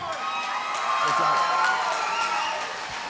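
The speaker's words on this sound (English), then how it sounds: "let me get a big round of applause for Masen, the Mouse, Hansen." A crowd at a fight event applauds and cheers, a steady dense wash of clapping and crowd noise that swells slightly in the middle and stays loud throughout.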